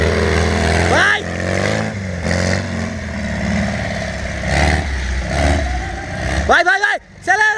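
Off-road buggy engine revving and accelerating on open fields, a steady loud mid-pitched drone with rising pitch sweeps near the end, under excited shouting voices.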